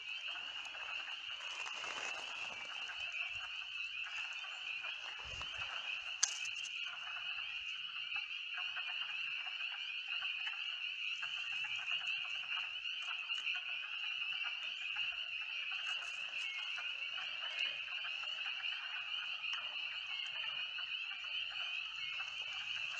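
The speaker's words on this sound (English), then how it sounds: "Let's listen to the peepers for a minute." Spring peepers calling in dense woods at night in Litchfield, Connecticut, a continuous chorus of high shrill peeps at moderate distance, steady and unbroken with a faint background hush and no talk.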